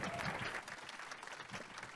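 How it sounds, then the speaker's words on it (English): Audience applause for panelists at a James Beard Foundation culinary discussion, a short, dense round of clapping from a seated crowd that fades slightly after the first moment. "Huge round of applause for them,"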